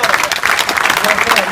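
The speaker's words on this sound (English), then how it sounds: "that's worth a round of applause in itself" Audience applause at an evening event with Amir Khan, dense steady clapping filling the room for the whole moment, with some voices mixed in.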